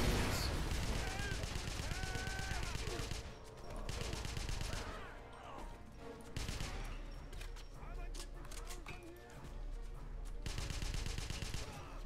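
Gunfire in a Wolfenstein shooter: loud rapid machine-gun bursts in repeated volleys, paused between strings of shots, with someone talking over parts of it.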